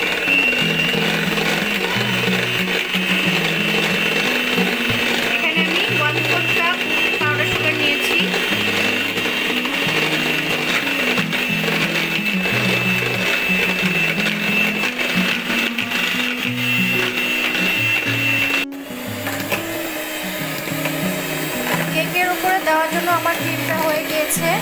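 An electric hand mixer whirs steadily while beating cream with powdered sugar for a vanilla cake frosting, a continuous close motor drone with a brief dip near the end.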